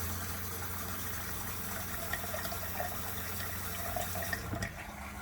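Water running from a tap in a Forest River Cherokee 264DBH travel trailer, a steady broadband rush that continues evenly for several seconds before changing near the end, with no talk.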